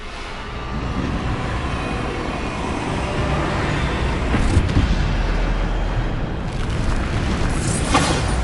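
Bombarda blasting spell in Hogwarts Legacy: a dense, sustained rumbling roar of booming explosions, steady and loud across the stretch with a couple of sharper bursts near the end.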